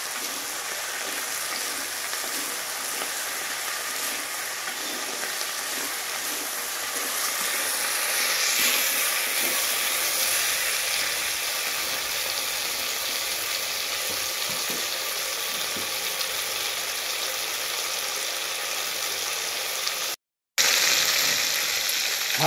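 Vegetables frying in a pan with salt and turmeric while making kochu pui curry, a continuous hissing sizzle with light stirring, steady and close, without speech.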